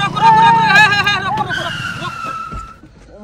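A car braking hard and skidding on a road to avoid a motorcycle, a loud drawn-out tyre squeal that fades over about two seconds, with people talking loudly over it.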